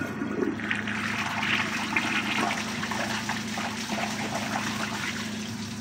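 A vintage forward trap toilet flushes with a continuous rush of water close by, swirling and gurgling steadily through the whole stretch without any speech.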